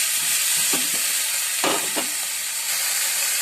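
Vegetable stir fry with white and black sesame seeds sizzles steadily in a wok, a bright continuous frying hiss broken by a few scraping, shuffling tosses close up.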